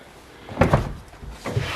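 A car door latch clicks as the locked door is unlocked, then it swings open with a couple of soft thuds, heard close up with no talking.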